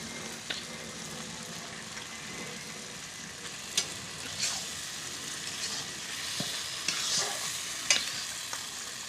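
Meat hits hot oil in a pan and fries with a continuous bright sizzle, while a utensil stirs with a few scraping clacks close by; no talk.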